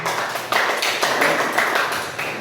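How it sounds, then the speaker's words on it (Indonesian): A class of people applauding together, a steady dense clatter of hand claps with slight rhythmic swells, fairly loud and close. "Berikan tepuk tangan untuk Nadine"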